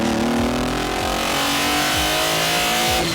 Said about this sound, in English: Wide open throttle, all you hear is essentially the engine in your ear screaming